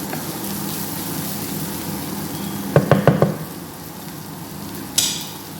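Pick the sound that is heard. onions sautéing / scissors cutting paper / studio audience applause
onions sautéing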